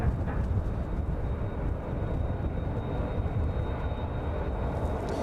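A Maersk cargo aircraft idles on the UPS ramp near the end of runway 27 at East Midlands airport, producing a steady, broad jet engine roar with a faint high whine and no voices.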